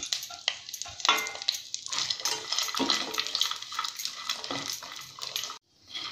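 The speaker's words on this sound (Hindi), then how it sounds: "इसमें हम अपनी बाकी सारी मेवा डाल लेंगे, नारियल, छुआरा और चिरौंजी, और इसको भी हम थोड़ा सा भून देंगे।" Nuts, coconut, dried dates and chironji roasting in ghee in a kadhai: a continuous close sizzle with repeated scraping and stirring clinks of a spoon against the pan.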